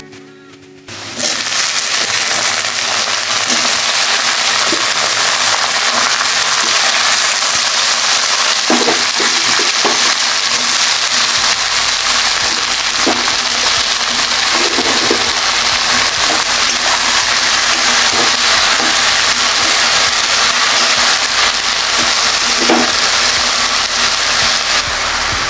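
Taro stolons hit a pan of browned onion and garlic and fry with a loud, dense, steady sizzle that begins abruptly and roars on unbroken. Faint clinks of stirring come through now and then, and no one speaks.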